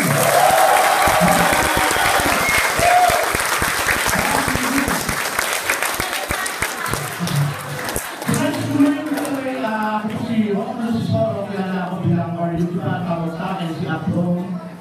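A crowd claps loudly in sustained applause at a product presentation; the clapping fades out partway and a person starts talking over a murmuring room.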